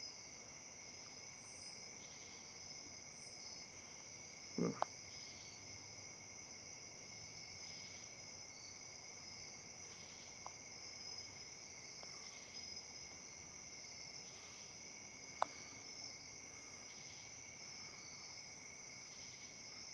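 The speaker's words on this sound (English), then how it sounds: "doesn't the sound of the crickets and the cicadas sound very relaxing?" Crickets and cicadas drone steadily in a continuous high chorus, a few brief faint clicks and taps breaking through now and then.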